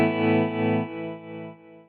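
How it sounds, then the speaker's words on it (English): Electric guitar through a panner tremolo with optical trim, on a vintage amp model for modern rock: a sustained chord rings loud and alone, its level pulsing in slow swells as it gradually decays. "We also have a panner tremolo with the optical trim."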